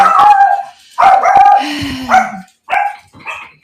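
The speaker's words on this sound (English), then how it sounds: "Do y'all have dogs? Do your dogs mind you?" Dogs bark indoors at an antique shop in North Georgia, several loud close yips and bow-wows in quick bursts with short gaps between them, ending in a whimpering whine.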